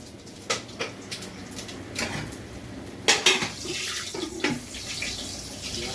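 Whole spices hit hot oil for a Kolkata-style mutton curry, giving scattered crackling pops and sizzling bursts alongside clinks of a metal pan, close and fairly faint.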